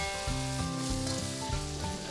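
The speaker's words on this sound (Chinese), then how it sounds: "下锅翻炒到金黄变色" Swimming crab pieces, cut edges dusted with starch, stir-fry in hot oil in a pan, giving a steady loud sizzle throughout with no talk over it.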